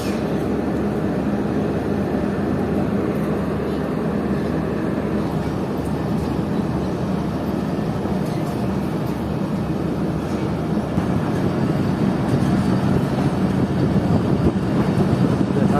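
Fareed Express train pulling away from a station in Pakistan, heard as a steady loud rumbling roar of wheels and carriage with wind buffeting, continuous throughout with no voices.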